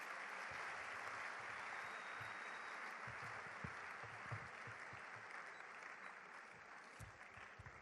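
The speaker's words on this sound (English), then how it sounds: "Another round of applause, please." An audience claps continuously and evenly at a women in leadership series event. The applause sounds somewhat distant and soft, with no voices over it.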